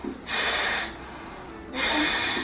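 Heavy, strained breathing from a woman in labor during strong contractions, two long loud exhalation bursts separated by quieter breaths, close and alone without speech.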